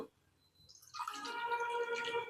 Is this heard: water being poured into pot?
yes